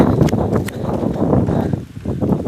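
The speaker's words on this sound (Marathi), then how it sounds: "खूप जोरात पाऊस येतोय तसा." Heavy rain driven by strong wind, with a steady, dense rush that swells and dips in gusts throughout.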